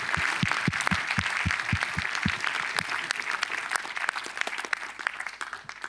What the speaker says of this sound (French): qu'on peut applaudir notre intervenant